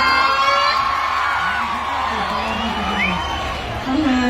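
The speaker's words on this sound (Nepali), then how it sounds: "मेरो दाइ भोज थापाको लागि एकचोटि जोरदार ताली सुनाउँछ" A large festival crowd at Tulsipur keeps up a continuous, dense roar of cheering and shouting, with a brief high whoop standing out in the middle.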